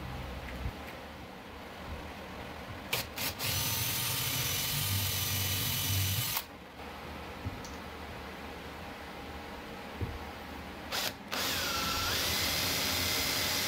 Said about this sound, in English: I'm going to drill in 3 places to a depth not to poke through on the other side